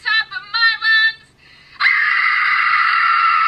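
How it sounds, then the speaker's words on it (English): A person screams loudly at the top of their lungs: a few short wordless vocal bursts, a brief pause, then one long, sustained, piercing scream held until the end. "I scream at the top of my lungs"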